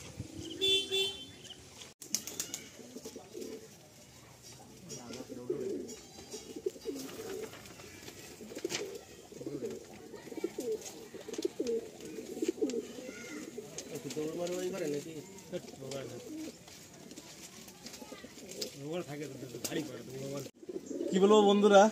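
Pigeons coo at a pigeon loft, soft repeated low throaty calls running throughout at moderate distance, with voices talking over them for much of the time and a brief horn-like toot.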